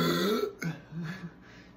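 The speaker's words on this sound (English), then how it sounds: "You're gonna burp." A burp after chugging Sprite in a drinking challenge, a drawn-out, gurgling belch breaking into a couple of shorter throaty bursts, close and fairly loud.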